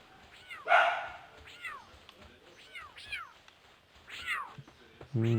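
Cat meowing in the video game Palworld, several short plaintive meows in a row, fairly close and clear, ending with a louder burst of sound.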